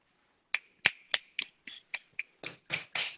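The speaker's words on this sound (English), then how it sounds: "Clicks, clicks, clicks, girl." Crisp finger snaps, about eleven in a loose rhythm, close and clear against silence, growing slightly denser toward the end.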